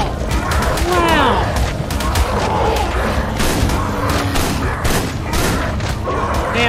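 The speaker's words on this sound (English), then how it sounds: "I just hear gunshots" Rapid bursts of gunfire sound in the video game ARK, sharp cracks repeating irregularly among chirping, swooping bird calls. The mix is loud and busy throughout.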